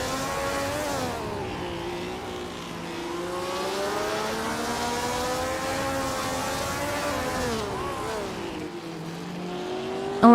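Several racing car engines roar and rev together in a video game race on the Alastaro Sprint Short Track, a classic 1965 Ferrari 1512 among them, with sustained overlapping engine tones rising and falling close up.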